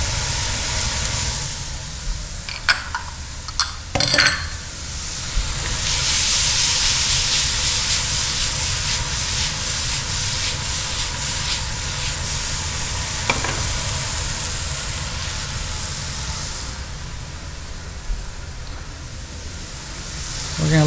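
Tomato and cilantro cook in a hot pan with a steady sizzle and hiss. A few sharp clinks of stirring come early, and a voice speaks now and then over the frying.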